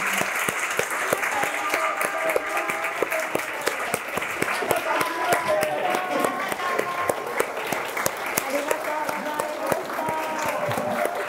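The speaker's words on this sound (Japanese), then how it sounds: "皆様の大きな大きな拍手でお送りください。" Sustained applause from the audience closing a Japanese camera-themed talk show marking a Leica retailer's 30th anniversary, dense steady clapping over several seconds while voices speak faintly underneath.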